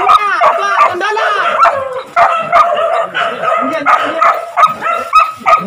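A dog on a wild boar hunt in Sumatra yips, whines and barks loudly and close in rapid, uneven bursts, with high whimpering cries running throughout.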